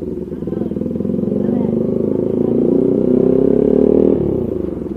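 A motorcycle engine rumbles close by at a steady, loud drone as it crosses a damaged bridge, swelling slightly midway and then easing off near the end, with a voice talking faintly beneath it.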